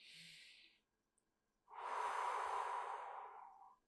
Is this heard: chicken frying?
no